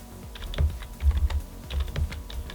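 Keys tapped on a computer keyboard while writing JavaScript code, a short burst of quick, close clicks in two clusters with a brief pause between them.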